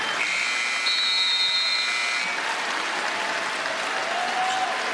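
A large crowd at a U.S. professional basketball game applauds and cheers steadily for the whole span, a dense, loud wash of clapping with some whistle-like tones early on.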